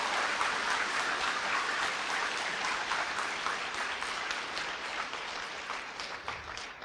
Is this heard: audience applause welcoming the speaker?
yes